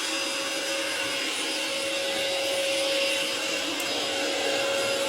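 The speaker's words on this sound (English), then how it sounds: "One moment he's vacuum cleaning now." A vacuum cleaner runs steadily indoors as someone cleans at home, a constant loud broadband whir with a steady tonal hum that holds throughout without pause, no voices heard over it.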